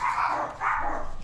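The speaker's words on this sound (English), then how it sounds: "I gotta go see what they're barking at." Dogs bark close by, two quick loud barks in succession with a short gap between them.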